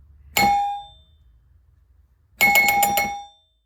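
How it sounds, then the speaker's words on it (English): The top chime of a Williams Little Chief pinball machine, driven by an Arduino, strikes twice: one clear metallic ding near 0.4 s, then a second ringing strike about two seconds later with a bright bell tone that decays over a second. "So I've got the top chime hooked up here, so I'll reset the Arduino."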